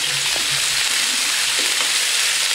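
Lamb chops sizzling on a hot barbecue as they are turned over, a steady loud hiss of frying with a few soft scrapes and clinks of handling.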